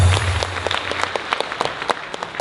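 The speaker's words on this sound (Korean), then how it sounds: "박수 한번 보내주십시오" A crowd at an outdoor political rally applauds, a dense patter of many hands clapping steadily and fairly loud throughout, with no voices over it.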